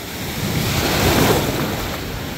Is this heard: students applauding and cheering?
no